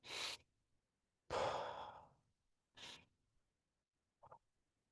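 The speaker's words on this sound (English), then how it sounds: "You can do some deep breathing. Deep breathe in through your nose, breathe out through your mouth." Slow deep breaths, in through the nose and out through the mouth, come as several separate airy inhales and exhales with quiet pauses between them. The last breath is a short, soft one.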